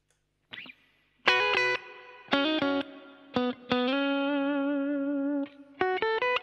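Steel-string guitar played through reverb, with several strummed chords and single notes ringing out in bursts, one chord sustaining for about two seconds, each decaying into a lingering wash of reverb.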